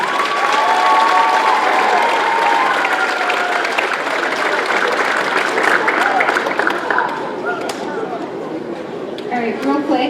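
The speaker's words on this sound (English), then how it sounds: "let's give the freshman red cheer squad a round of applause" A banquet crowd applauds a freshman cheer squad at a youth football league awards event, with steady, full clapping and some cheering throughout, plus chatter and voices emerging as it thins toward the end.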